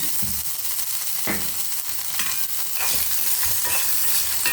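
Coconut, garlic and ginger sauté in a pan for pudina chutney, a loud close sizzle with scraping and clinking strokes as the mixture is stirred.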